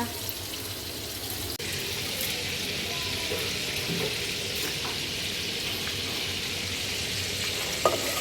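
Chicken pieces frying in hot oil in a pan give a steady, close crackling sizzle that carries on without a break, with one sharp click near the end.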